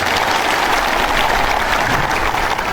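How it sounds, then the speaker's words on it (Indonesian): Steady, dense applause from a ceremony audience in Sorong Selatan, sustained clapping at even loudness throughout without a break. "Aplaus dulu untuk Anda semuanya"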